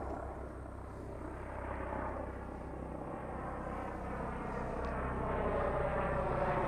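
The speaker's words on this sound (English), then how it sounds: "Hello, helicopter." A steady engine drone from an aircraft overhead, growing slightly louder, a whirring rumble that sounds like a helicopter passing nearby.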